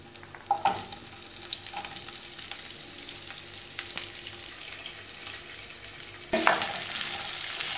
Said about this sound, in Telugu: నేను ఉల్లగడ్డ, carrot, capsicum, onion, green peas అన్నీ చిన్న చిన్న ముక్కలుగా కట్ చేసుకొని ఈ ఆయిల్లో యాడ్ చేశాను.